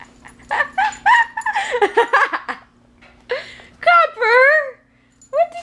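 A pet dog whimpers and yips in high, wavering whines after destroying its bed, heard close up between bursts of a voice talking to it over a low background hum.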